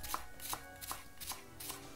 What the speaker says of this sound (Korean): 얘는 한 4cm 간격으로 잘라 주신 다음에 요거는 세로로 갈라서 해 주세요.